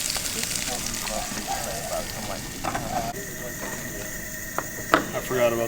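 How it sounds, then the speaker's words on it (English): Philly cheesesteak meat fries on a skillet over a vintage Coleman stove at a Florida campsite, a continuous close crackling sizzle with occasional sharp pops and clinks, while people talk nearby. "Everything's getting nice and cooked up here on this skillet"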